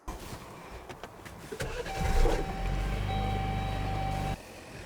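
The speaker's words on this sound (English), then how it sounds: "when you see a green ready, that means you can go and start your car" A car engine, jump-started with a Hulkman Alpha Pro jump starter, cranks briefly and catches, then settles into a steady idle that cuts off near the end, heard close and alone.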